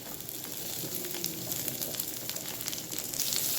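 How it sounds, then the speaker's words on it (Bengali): Steady, dense sizzling of thinly sliced onions frying in hot oil, a continuous crackling hiss throughout with no voices. "এবারে পেঁয়াজগুলোকেও ভালো করে ভেজে নেব"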